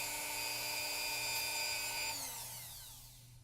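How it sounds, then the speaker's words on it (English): A Dremel 4000 rotary tool cuts into a collectible figure's joint piece, a steady high-pitched whine up close that slowly winds down in pitch as it stops. "I'm gonna go ahead and use my Dremel 4000 to make quick work of this thing."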